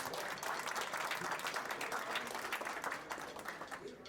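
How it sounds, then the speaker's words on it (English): Audience applause at a Mardi Gras event inside the C. H. Cozean Library, a steady, dense patter of many hands that sounds somewhat distant and soft and then thins out toward the end. "Let's give them another round of applause."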